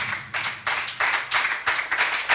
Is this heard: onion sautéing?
no